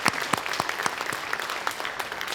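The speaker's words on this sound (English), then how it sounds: "One last round of applause for them." An audience at a junior honor society induction ceremony claps, a moderate round of applause with a few sharp, distinct claps standing out above the steady patter.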